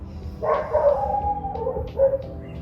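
A dog barks and whines in a short run of drawn-out, howling yelps, moderately close, with no talk.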